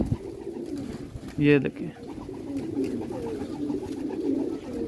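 Pigeons in a loft cooing softly and steadily in the background, with a brief burst of wing or bird noise near the start as someone speaks over them.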